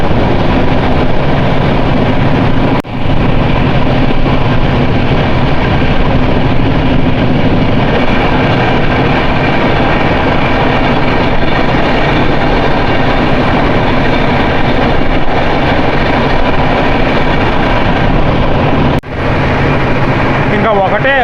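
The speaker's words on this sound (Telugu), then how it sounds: "Solapur Haasan super fast express." The Solapur–Hassan superfast express thunders past close by, a continuous loud rumble and rattle of wheels and coaches lasting about twenty seconds, with two brief dips in the roar.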